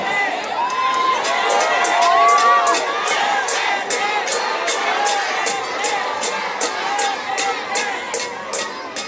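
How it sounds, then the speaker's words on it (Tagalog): A large crowd at a political rally shouts and cheers, with a rhythmic chant repeating steadily over a roaring mass of voices and whoops, loud and continuous. "Ang sigaw ng mga tao ay Duterte."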